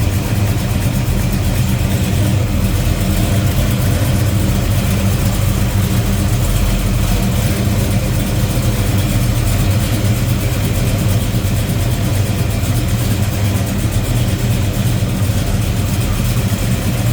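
A 1969 Chevrolet Chevelle SS 396 with headers idles steadily up close, its low, even engine rumble running unbroken without talk.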